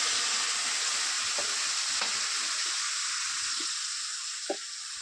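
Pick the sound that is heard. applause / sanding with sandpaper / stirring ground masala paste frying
stirring ground masala paste frying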